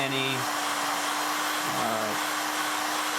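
A heat gun blows steadily to shrink heat-shrink tubing over PC cable sleeving, a close, constant whooshing hum with a faint tonal whine and brief shifting tones beneath.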